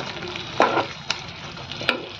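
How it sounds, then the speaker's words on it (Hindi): Chopped capsicum sizzles and fries in a pan for a paneer cashew curry, a steady close crackle broken by a few louder stirring scrapes. "एबे एई अवस्था रे ही आमे एथरे काटिकी रखिथिबा कैप्सिकम को पकेइबा।"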